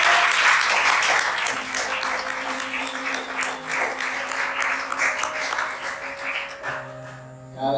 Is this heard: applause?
yes